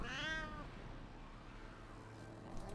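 A cat meows once, close and clear, a short rising-falling call at the start over low background noise from the Warframe game audio.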